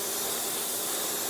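An airbrush sprays paint in a steady, soft, continuous hiss that is close and unbroken for a brief moment.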